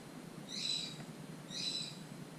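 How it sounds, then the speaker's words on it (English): A pet bird sings indoors in the morning, giving two short bursts of high, bright chirping about a second apart over a quiet room hum. "I guess you can hear my bird. It's morning time for him and he's singing his song."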